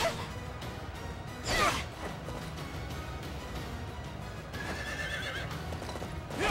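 A horse in the video game Fire Emblem: Three Houses whinnies loudly twice amid the clip-clop of hooves and some rustling movement.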